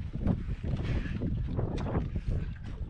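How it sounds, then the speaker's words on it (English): Wind gusting over a reservoir lake while fishing for largemouth bass from a boat, a continuous rumbling buffet of wind noise against the microphone, fairly loud and unbroken. "This wind is killing us."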